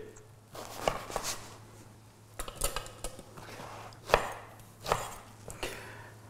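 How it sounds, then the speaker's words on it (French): A knife saws and chops through day-old bread, cutting it into large chunks, in a series of crisp, close crunching strokes separated by short pauses, fairly quiet and with no talking. "On va découper le pain de la veille, des gros morceaux, pour avoir des grosses bouchées."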